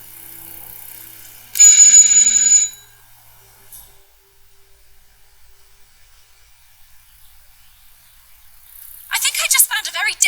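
Doorbell in the stealth video game Hitman 2, a bright ringing chime about a second long, loud and close, followed by quiet and then game voices talking near the end.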